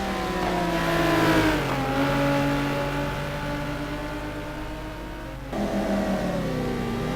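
Race car engines in a sim racing game at Spa scream at high revs, pitch dropping for a gear change or braking and then climbing again, loud and continuous.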